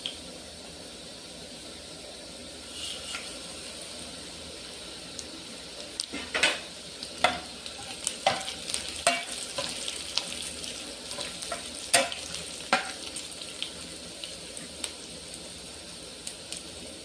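Garlic and whole spices fry in a pan, a soft steady sizzle broken by sharp clicks and scrapes of stirring that bunch up in the second half, with no one speaking.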